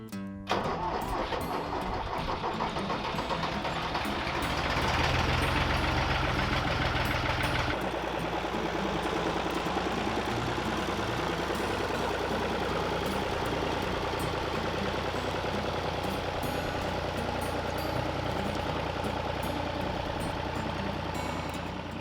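A diesel tractor engine with a digger attachment runs steadily at idle on a frozen marshy field, a constant low chugging rumble with a slight change in pitch early on, no voices.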